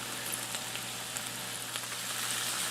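Meat and a small amount of onion fry in oil in a pan for chili, giving a steady, close hiss of sizzling with faint pops and crackles throughout, with no talking.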